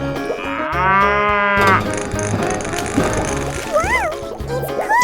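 A cartoonish cow moos loudly in a 3D animal slide video game, a long wavering low call up front, followed by bouncy boing effects and game sounds with brief voice-like bits.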